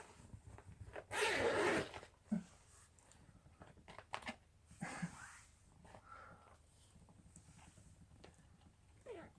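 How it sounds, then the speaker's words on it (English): A soft fabric bag cover on an Oreck XL upright vacuum is unzipped in one quick, close zipper pull, followed by a few faint handling rustles and light knocks. "All you have to do is unzip it."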